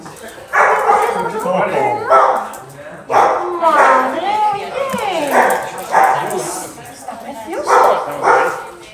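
A dog barks and yips in several loud close bursts with whimpering tones, mixed with a person's excited voice talking over it.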